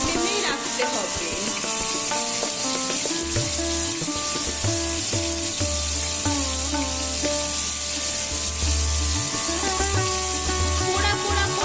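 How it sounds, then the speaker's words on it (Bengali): Chicken tikka pieces frying over a high gas flame, a steady loud sizzle throughout with occasional stirring and scraping in the pan. "মাংসগুলো একটু পোড়া পোড়া ভাজা হবে, তাই জন্য গ্যাসের ফ্লেমটা কিন্তু হাই ফ্লেমেই রাখতে হবে"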